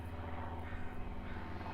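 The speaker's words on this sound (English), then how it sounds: "No, it's a Cessna." A Cessna propeller plane flies overhead as a steady, distant engine drone, fairly faint and continuous, with no talk.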